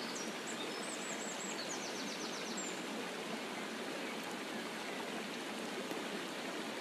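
A waterfall rushes in a steady, dense wash of broadband noise, constant and unbroken, with faint bird chirps briefly audible above it early on.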